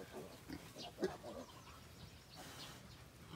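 A thin piglet on a small pig farm with a mange problem gives soft, faint grunts among other farm sounds, with a person speaking quietly nearby.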